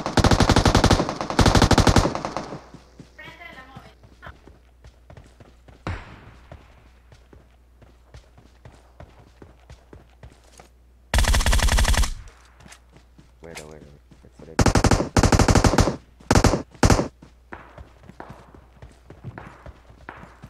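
Loud bursts of rapid gunfire in PlayerUnknown's Battlegrounds in several short volleys, separated by quieter stretches of clicks and ambient game noise.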